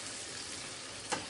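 Tamarind pulp with green chilli and curry leaves frying in a pan, a quiet continuous sizzle with one brief louder crackle near the end.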